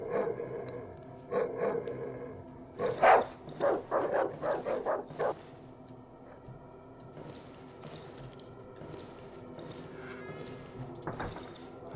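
Dog barking in the horror video game Darkwood, a run of several sharp barks in quick succession, fairly close, then quieter yips and whimpers toward the end, with faint ambient background.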